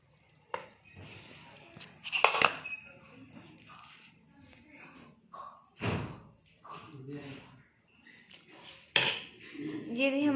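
Utensils clatter and knock against pots and dishes as aloo matar qeema curry is served out, with sharp scattered clanks and thuds.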